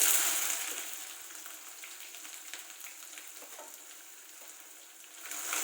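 Curry leaves and onion fry in a pan for paneer sabji, producing a loud, continuous hissing sizzle that dips in the middle and swells again at the end, with light stirring scrapes and no talking.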